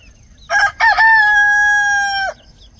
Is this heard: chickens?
yes